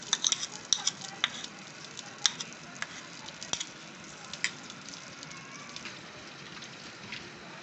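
Fried onions and meat sizzling in a clay pot for namkeen katwa gosht, a steady close frying hiss with scattered sharp pops and crackles throughout.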